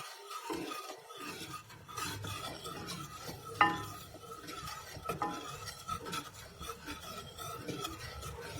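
A vanilla ice cream mixture is stirred steadily in a pot while it cooks, giving a continuous scraping, rasping swirl with occasional sharper clinks of the utensil against the pan, close and fairly quiet.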